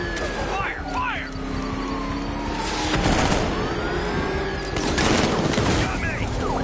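Gunfire in Batman: Arkham Knight, with rapid bursts of shots over a rumbling vehicle engine, repeated volleys and booming impacts, and shouting voices over the fight.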